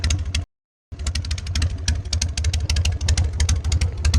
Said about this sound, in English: nothing sounds like them drag pipes